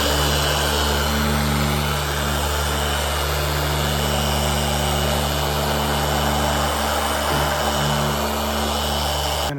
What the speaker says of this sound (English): Finish that last polishing with the Plastex